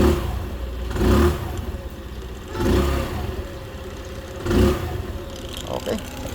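Racal ER150N motorcycle engine running after repair, a close idle with three distinct revs swelling roughly every one and a half seconds, some clatter between them.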